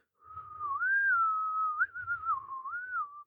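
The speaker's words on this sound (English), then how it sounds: "it sounds a lot crisp and clear and prettier on the tin whistle" A melody on an Irish tin whistle, played as one smooth, clear line that glides and ornaments between notes over about three seconds, close and alone without talk.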